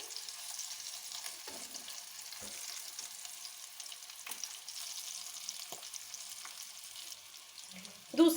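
Stuffed bitter gourds (karela) frying in oil in a pan make a steady, moderate sizzle, broken by occasional soft knocks of a utensil turning them, and a louder clatter at the end.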